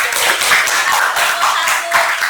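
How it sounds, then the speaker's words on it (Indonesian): Students clap for their classmates during a school teaching-practice session: a loud, close burst of many hands in quick, slightly rhythmic waves, with no talk over it. "kasih tepuk tangan dulu buat teman-teman"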